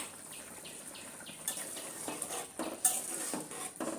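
A Bengali prawn and potato curry simmering in a pan as a ground cumin and garam masala spice paste is stirred in, with soft bubbling, clinks of a spoon against metal and scraping stirs, fairly quiet.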